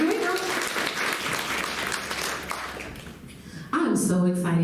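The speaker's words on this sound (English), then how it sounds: "So, one more round of applause." Audience applause for an introduced artist at a storytelling event, a moderate wash of clapping under a speaking voice, fading out before talk resumes clearly near the end.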